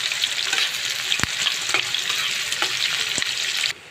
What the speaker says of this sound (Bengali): এখন আমি আদা বাটি পরিমাণ পেঁয়াজ কেটে দিয়ে দেবো।